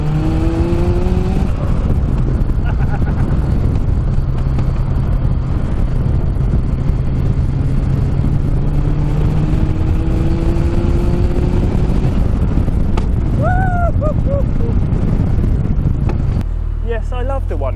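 RX-5 250 race car being driven hard, its engine loud and close, revving up through rising pitches, with brief shifts between gears and a sudden drop near the end.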